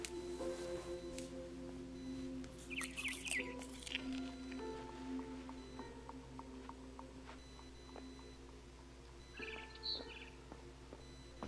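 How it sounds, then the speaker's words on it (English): A barn swallow outside a window gives a few faint, quick chirps in two short bursts, separated by quiet stretches with no talking. "Then I heard chirping outside my window."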